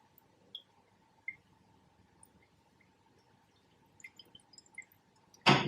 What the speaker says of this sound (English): At the moment, I'm delivering one drop at a time.